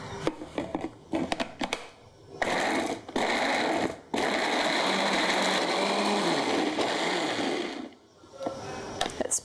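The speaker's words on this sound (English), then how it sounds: "Now we're going to blend it." Electric blender whirring steadily as it purees tomatoes, chili, garlic and vegetable oil, a loud sustained motor drone with brief stops and restarts, no talking.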